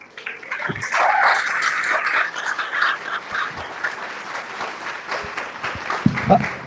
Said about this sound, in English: I'm assuming the audience is clapping for you and not AIPAC or the ADL